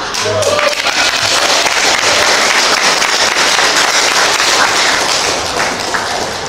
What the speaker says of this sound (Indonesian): terima tepuk tangan